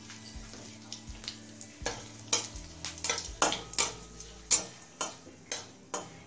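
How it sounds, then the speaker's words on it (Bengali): Bay leaves and cumin frying in mustard oil in a kadai: a faint steady sizzle under repeated sharp clicks and scrapes of a spoon against the pan. "3 তেজপাতা আর জিরেটা 30 থেকে 40 সেকেন্ড ভেজে নিলাম।"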